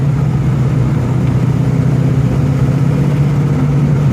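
A 1971 Dodge Super Bee V8 runs loud and steady on its own, a low engine drone with a constant rumble and no distinct revving surge, and no voices over it.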